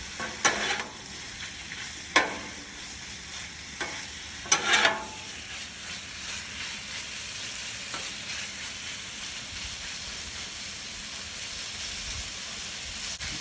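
Chicken thigh sizzles on a Blackstone griddle over medium-high heat, a steady close frying hiss broken by a few sharp scraping and clanking hits from a spatula early on.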